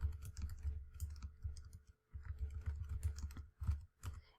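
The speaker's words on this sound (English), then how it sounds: "So I'm just going to type a few in here." Names and scores being typed on a computer keyboard into a spreadsheet: rapid, uneven bursts of close key clicks with a brief pause midway, no voices.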